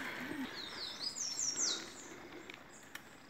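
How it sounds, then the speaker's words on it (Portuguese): Small birds singing in dense forest along a cycling route, thin high chirps and sweeping whistles close by over a faint steady background, with no talking. "Olha os passarinhos cantando"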